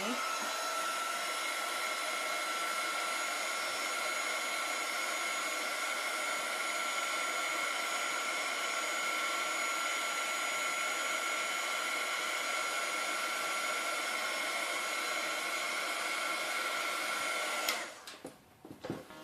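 An embossing heat tool blows a steady, even whir over a stamped embossing powder image for about eighteen seconds, then cuts off abruptly, leaving faint handling noises.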